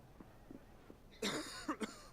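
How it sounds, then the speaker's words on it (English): A character coughing in Final Fantasy XVI: a quiet background, then a burst of harsh coughing, a few rough hacks close together, followed by two more sharp coughs. "'Cause that's Joshua's cough."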